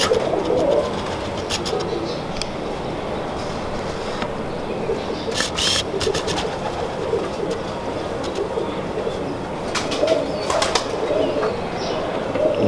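Pigeons of a superior crossbred fancy breed coo steadily throughout, with bursts of wing flapping, while people talk intermittently in the background.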